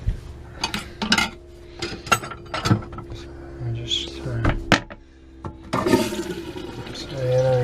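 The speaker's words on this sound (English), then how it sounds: "Let's see if it flushes." Pump-out toilet on a narrowboat flushing: a short rush of water with clunks and clatter close by, amid handling noises and a voice speaking.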